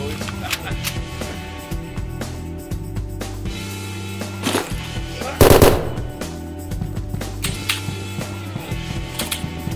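Gunfire in the multiplayer FPS game Capsule Wars, with rapid bursts of shots and one louder blast midway, layered over a steady electronic background tone and game effects.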